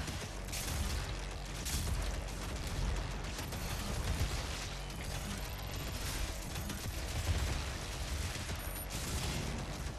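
Gunfire from a weapon in the video game DOOM rattles in dense, rapid bursts over a constant loud backdrop of game noise and mechanisms, with no talking.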